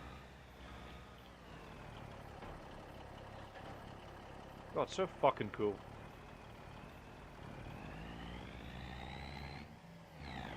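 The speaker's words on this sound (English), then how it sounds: "God, the fucking engine's loud though. I can't hear Georgia over the sound of this truck." A truck engine in a farming video game drones at a steady idle under a voice, with a short burst of talk in the middle and the engine pitch rising briefly near the end.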